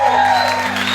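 Church congregation applauding during a service, a brief dense wash of clapping with a steady tonal hum underneath.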